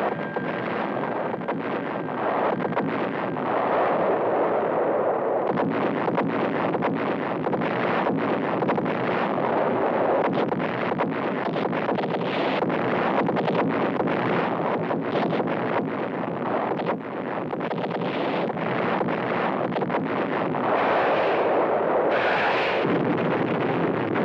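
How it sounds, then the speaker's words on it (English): Heavy naval bombardment of coastal defenses during the D-Day invasion, a continuous loud rumbling roar of distant artillery fire and blasts that swells and surges throughout with no voices. "a naval bombardment opens up on the enemy's coastal defenses."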